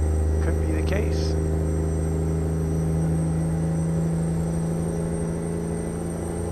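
A Peterbilt 389 (Rollin 389) heavy truck with a Detroit Diesel 60 engine cruises through Nevada in American Truck Simulator, its deep steady diesel drone droning continuously alongside faint ambient road noise.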